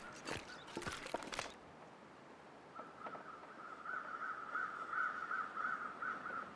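Crows caw repeatedly at a distance in the snowy wilderness of the survival game The Long Dark, a rhythmic series of calls building after some louder rustling and footstep-like noise at the start.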